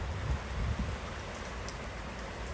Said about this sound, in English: So let's step into the rain.